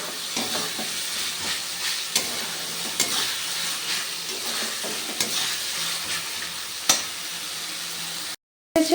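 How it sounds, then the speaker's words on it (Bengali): Spice paste for katla fish curry sizzles steadily in a wok, a continuous frying hiss with scattered stirring scrapes and clicks, close and fairly loud throughout, briefly cutting out near the end. "মশলাটা দেখো আমার খুব ভালোভাবে কষানো হয়ে গেছে"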